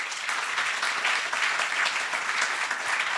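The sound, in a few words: audience round of applause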